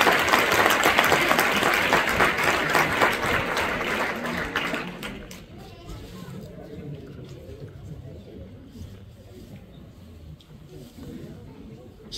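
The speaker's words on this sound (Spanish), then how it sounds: "Un aplauso, por favor, por el reconocimiento que le hace la Federación." An audience at a gala of local peñas claps loudly for about five seconds, the dense applause then thinning and fading into quiet room noise with scattered murmurs.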